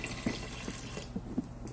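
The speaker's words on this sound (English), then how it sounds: "Here, you pour that water." Water being poured into a pressure cooker while making a dump-and-go crockpot meal, heard as a short, faint splashing trickle with a few soft drips, close by and quiet.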